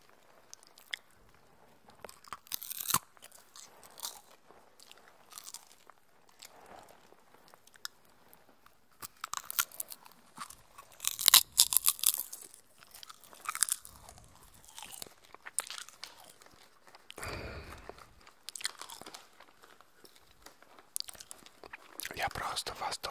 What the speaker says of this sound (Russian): Не знаю, как они так делают этот попкорн. Настолько воздушный и хрустящий.